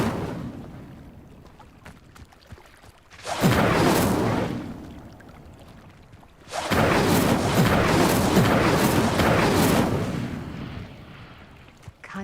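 Fire conjured by the Incendio spell to light pyres in Hogwarts Legacy: two loud roaring whooshes of flame, the first short and the second longer and sustained, each swelling abruptly and fading back to a quiet background.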